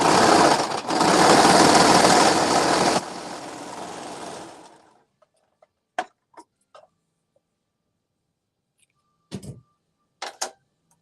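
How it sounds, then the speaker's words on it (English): A serger sewing machine runs fast while stitching a sweatshirt cuff seam, a loud dense mechanical whirr for about four seconds that slows and winds down, then stops, followed by scattered quiet clicks and handling sounds. "I'm going to use my serger"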